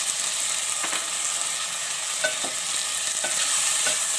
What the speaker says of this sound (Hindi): टमाटर डाल के हम चलाएंगे